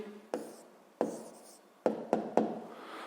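Pen writing an answer by hand on paper for a sixth-grade math exercise, heard as several short scratchy strokes with sharp onsets spaced irregularly, close and fairly quiet, with no talking.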